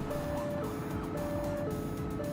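Slow car driven in The Precinct police video game, with a low steady engine rumble beneath a repeating two-tone siren wail, quiet and with no talk.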